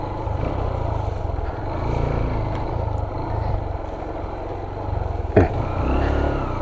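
A motorcycle ridden along a rural road, its engine droning steadily and loud throughout, with a sharp bump or knock near the end.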